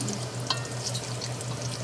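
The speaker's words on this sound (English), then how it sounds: "And still frying up the bacon." Bacon sizzles and crackles in a pan, a steady frying hiss with a few sharp pops, close up and with no talking.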